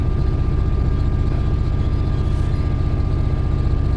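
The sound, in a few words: locomotive engine revving, video game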